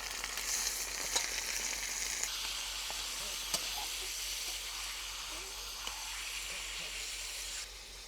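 Liver pieces frying in a pan with onions already browned, giving a steady, close hiss and crackle that runs almost unbroken, with a few brief sharper pops and a slight drop near the end.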